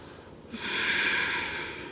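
A single long, audible breath taken during a yoga exercise, a close airy inhale or exhale that swells and holds steady, with no talking over it.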